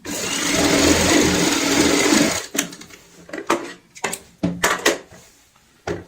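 A sewing machine runs in one continuous whirring burst for about two seconds while stitching a cushion cover, then stops, followed by a scatter of sharp clicks and knocks from handling the fabric and machine.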